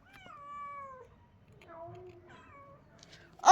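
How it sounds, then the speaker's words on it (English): A cat meows close by, with a drawn-out wavering meow followed by two shorter, softer meows, then a brief loud noise at the end. "that's a wild cat, I think so"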